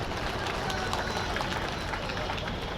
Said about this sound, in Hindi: एक बार माता बहन के लिए जोरदार ताली बजा दीजिए